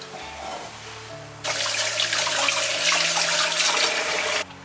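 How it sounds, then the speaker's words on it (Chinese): Tap water runs into a kitchen sink to rinse foam off blanched pork heart, starting abruptly as a steady close splashing rush that lasts about three seconds and then cuts off, with no talking. "再用清水洗去浮沫"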